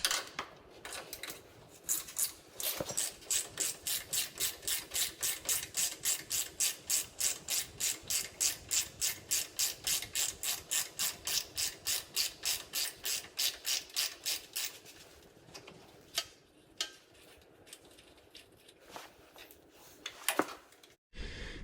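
Hand ratchet loosening 15 mm top strut bolts on a Ford Expedition during a rear strut replacement: a long run of rapid, evenly spaced clicks from close by, then slower scattered clicks and clanks, with no talking.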